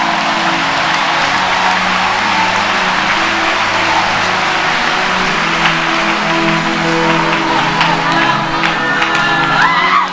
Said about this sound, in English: Get up on your feet and clap your hands to Jesus